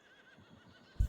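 A horse whinnying in a farming video game, a faint quavering neigh that ends in a soft hoof thud, brief and heard alone.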